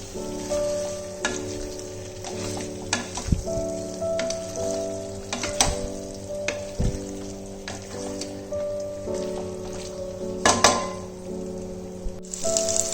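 Masala with potato and tomato ketchup sizzles and fries in a pan, with a steady crackle broken by occasional scrapes and clinks of a spoon stirring, close up.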